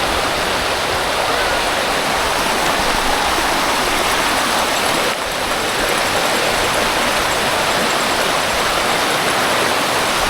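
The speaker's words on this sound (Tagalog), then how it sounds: "Sobrang lakas ng alon, no?" Strong current of the Nambalan River rushing loud and close, a constant broadband roar of churning water that never lets up.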